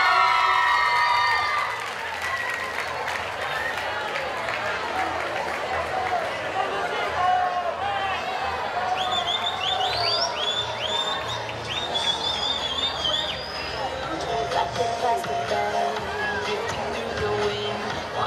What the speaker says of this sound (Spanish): Yo pido un fuerte, fuerte aplauso por el amor